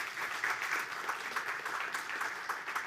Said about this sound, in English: Students, would you please applaud your teachers?